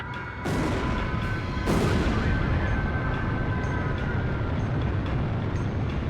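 Heavy bombs detonate during a bombing run in a flight combat video game targeting Belka's forces, a rumbling wall of explosions that thunders steadily, with two sharp blasts near the start before a continuous loud roar.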